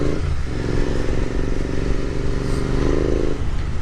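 A Continental GT650 motorcycle ridden along, its engine droning steadily and loud throughout, with a low rumble and some rattling clatter over the road.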